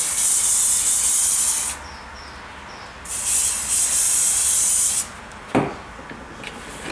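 Aerosol spray hisses onto model train scenery with puff trees and coarse turf: two long, loud, close bursts of hiss separated by a short pause, followed by faint handling noises.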